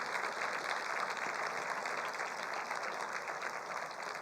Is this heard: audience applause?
yes